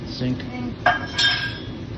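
Metal pot set down in a kitchen sink while cooking tater tot casserole, a sharp clank followed by brief clinking of dishes, close and fairly loud, with soft voices around.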